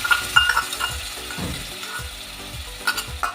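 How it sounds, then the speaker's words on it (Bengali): Ginger and chilli paste frying in a pan as a soaked spice mixture goes in for a banana-flower muthia dish, with a steady sizzle, scraping stirs and a few clinks of a spoon against the pan, close up. "এবার দিয়ে দেবো গুলে রাখা মশলাটা"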